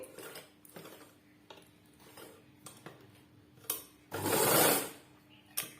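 Domestic sewing machine stitching along the edge of a dress sleeve, heard as short bursts of mechanical whirring and ticking with pauses, then a longer louder run near the end, close and clear with no talking.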